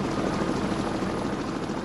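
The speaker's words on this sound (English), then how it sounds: "and helicopters" A helicopter from a transportation sound effects library roars steadily with a fast, rhythmic rotor chop over a dense engine whine, held at an even level throughout.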